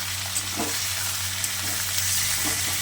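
Chicken pieces fry in hot oil in a pan, a close, constant sizzle with a few soft stirring scrapes rising briefly above it; no talking.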